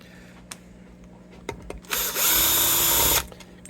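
A Bosch power drill works on Gibson Les Paul guitar parts: a few clicks and brief bursts, then a loud, sustained high-pitched whir for about a second before it stops.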